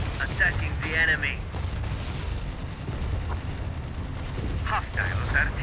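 Cannon fire in the video game Tom Clancy's EndWar: heavy, low booming shots rumble under radio-style voice chatter and sharp bursts, with a dense battle din throughout.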